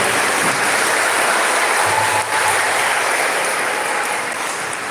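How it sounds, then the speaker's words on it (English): Steady applause fills a school honor society induction ceremony as the audience claps for staff members, a dense, continuous wash of many hands held at an even level throughout. "Let's give them a big round of applause"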